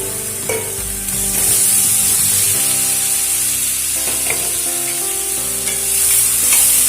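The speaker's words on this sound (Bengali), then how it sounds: "এবারে এর মধ্যে দিয়ে দেবো ভেজে রাখা আলু" Fried potatoes are tossed into a spice masala and stirred, and a steady sizzle runs under scattered spatula scrapes and knocks against the pan.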